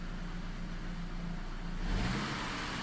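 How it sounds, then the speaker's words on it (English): Saab 9-5 engine idling with a clogged oil pickup, a steady low hum with a faint whirring layer that swells briefly near the end. "The sound, that's your oil pickup."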